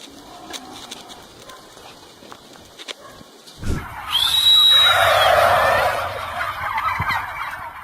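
A large flock of turkeys bursts into loud, overlapping gobbling after a few seconds of quieter background noise, continuing as a dense chorus.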